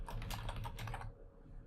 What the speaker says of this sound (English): if I type this filter